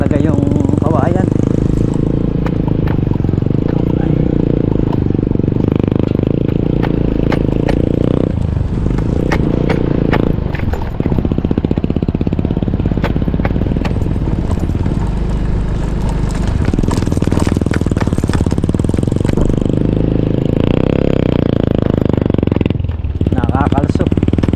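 Motorcycles hauling a heavy load of bamboo labor along with loud, continuous engine drone that dips and swells as they strain, close by, with people talking over the noise.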